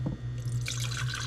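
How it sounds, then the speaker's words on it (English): Cooled liquid poured from a beaker into a blender container, a short close splash and trickle over a steady low hum. "pour the contents of the beaker into my blending"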